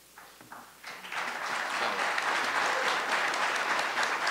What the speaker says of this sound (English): I want to remind the audience to hold your applause until afterwards